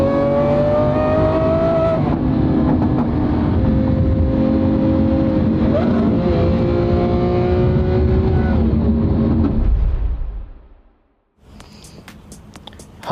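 A car engine running loud and close for about ten seconds, pitch sliding up and down through revs as it downshifts, then cutting out abruptly, with a quieter different sound starting after a brief silence.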